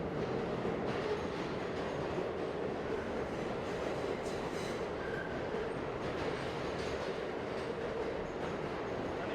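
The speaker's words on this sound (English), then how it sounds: "Let's get ready to watch the subway train." A New York City subway train rolls past with a steady, loud rumbling roar and faint metallic clatter that holds throughout. No one talks.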